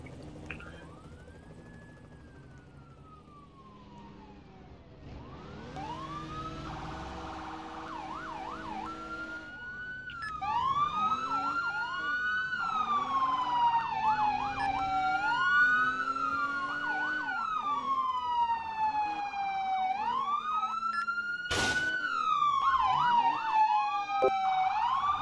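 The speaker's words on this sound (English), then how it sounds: "Why is the auto siren just so annoying?" A police car siren in the Roblox game ER:LC wails and yelps repeatedly, rising and falling in sweeping tones, loud and close, with engine rumble underneath and a sharp burst near the end.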